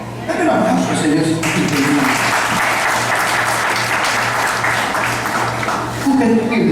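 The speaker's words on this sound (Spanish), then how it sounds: "Dame un aplauso al Señor." A church congregation applauds during a sermon: loud, sustained clapping from a crowd that swells quickly and carries on for several seconds, with voices mixed in.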